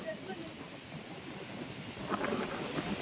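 Strong wind ahead of a rainstorm gusts across a cornfield and trees, a continuous broadband rush that swells louder in the last second.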